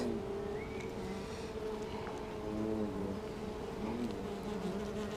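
Honey bees buzz around an open hive during an inspection, a dense, steady droning hum with individual bees whining past close by, with no voices.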